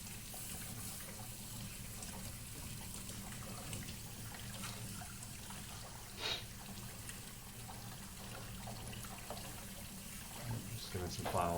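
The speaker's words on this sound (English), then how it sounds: "Just giving some final rinsing here." Running tap water rinses a dishwasher filter at a sink, a steady close splashing and trickling flow with brief louder gushes toward the end.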